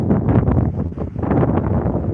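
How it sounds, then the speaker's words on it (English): Warm wind buffeting the microphone outdoors at a wildlife refuge, a loud, continuous low rumble of gusts swelling and easing with no talk. "It's a beautiful, warm wind."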